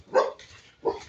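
A dog barks twice in an outdoor residential village walk, two loud close barks about half a second apart with a quieter gap between.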